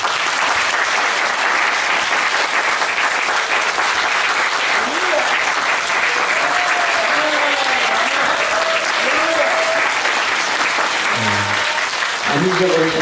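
A church congregation claps in encouragement for the choir, conductor and accompanist, a thick continuous wash of applause with voices talking and calling out over it near the end.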